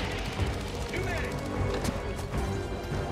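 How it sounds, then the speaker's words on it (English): An artillery barrage in Helldivers 2 keeps up dense, continuous booming blasts and crashes at loud level, while players talk over the din. "The world's best barrage earns its keep yet again."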